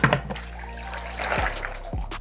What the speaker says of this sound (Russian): Теперь мы заливаем все это водой холодной.